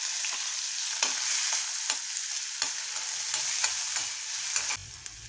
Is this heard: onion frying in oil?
yes